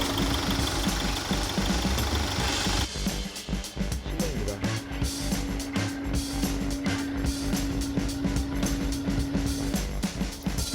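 A 2020 Range Rover Velar 2.0 D240 diesel engine idles steadily nearby, a low continuous rumble with a faint mechanical knock and vibration, plus occasional handling noises.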